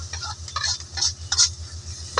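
Onion and garlic fry in a pan as a utensil stirs them, giving soft intermittent scraping strokes over a low steady sizzle, close and fairly quiet.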